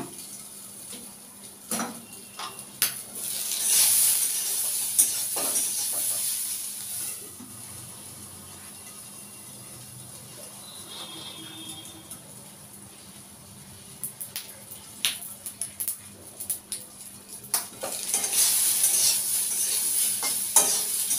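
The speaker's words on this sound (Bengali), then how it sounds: "এভাবে ঢাকা দিয়ে আমি ভেজে নেব।" Soybean chunks fry in oil in a covered pan, giving a soft continuous sizzle with bursts of louder crackling and occasional clinks and stirring scrapes, alone without talk.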